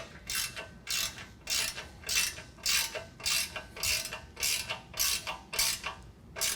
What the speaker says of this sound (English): Now we're going to tighten that M10 hardware.